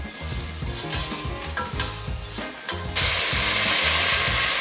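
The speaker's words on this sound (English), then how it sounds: "So let's keep stirring for about 30 seconds or so." Tomato sauce is stirred into sizzling aromatics in a hot pan, giving a steady, close frying sizzle with scraping stirs that suddenly surges into a loud, bright hiss as the sauce hits the heat.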